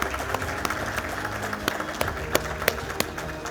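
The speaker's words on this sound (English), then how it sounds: "A big round of applause to them" An audience applauds at a national logistics summit, a dense steady patter of many hands clapping with a few sharper claps standing out.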